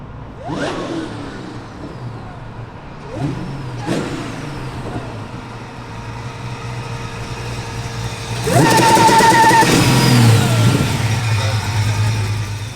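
A supercharged (blown) V8 car engine revs sharply in quick bursts, then holds a loud, sustained high-rev roar near the end, with a voice briefly audible over the engine.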